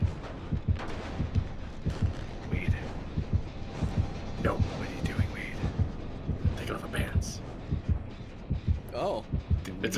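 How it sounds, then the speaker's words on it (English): In Dead by Daylight, the killer's heartbeat sounds as a steady, repeated low thumping that runs the whole time. Game noises and some talk sit faintly above it. "get your heartbeat away"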